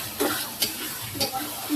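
Carrots and tomatoes fry in a pan for noodles, with a steady close sizzle broken by a few scraping stirs of the spatula, loud and without talk.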